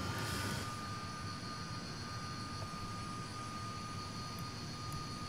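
Vintage de Havilland Comet jetliner engines spooling up for takeoff in Flight Simulator X, a steady broad roar with a thin high whine that holds level throughout, alone with no talk.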